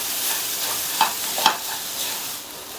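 Grated cabbage is stirred into frying masala in a pan, a soft continuous sizzle broken by two brief clinks of the spoon against the pan, with no talking.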